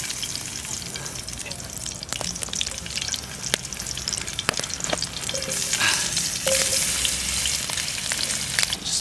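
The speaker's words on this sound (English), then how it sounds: "See that sizzle?" Fish fries in hot olive oil over a smoky fire, a continuous crackling sizzle with sharp pops and spits that grows a little louder toward the end.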